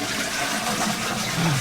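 A toilet flush sound effect, a continuous rushing and gurgling of water, fairly loud and steady, with a slight surge toward the end.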